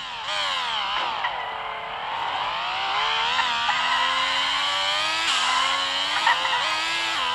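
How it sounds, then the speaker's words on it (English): A Corvette engine in the mobile racing game Legendary Cars revs loud and continuously, its synthetic engine tone rising and dipping with gear shifts and throttle changes, steady and close with no pauses. "But I'm driving a Corvette,"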